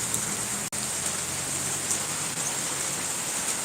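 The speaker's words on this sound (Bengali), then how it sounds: "এত বৃষ্টি হচ্ছে বলার মতো নেই" Heavy rain pours down steadily, a dense, constant hiss close by with no pauses and no voices.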